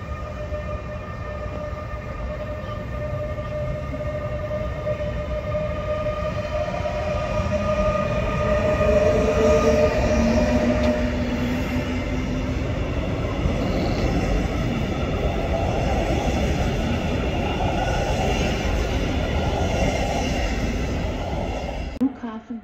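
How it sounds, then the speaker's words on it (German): A train rolls into a Berlin station, a long low rumble building and holding steady, with tonal squeal and hum lines over the top and platform ambience around it. "Caution, the train is arriving."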